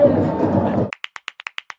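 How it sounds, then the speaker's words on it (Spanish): Students in a Nacaome classroom give a short burst of rhythmic applause for a correct answer, about nine crisp, evenly spaced claps in unison following a stretch of talk. "Aplauso."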